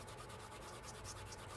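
Steady close rubbing of a leather bifold wallet being worked down by hand, a continuous dry abrasive hiss with no breaks, no talking.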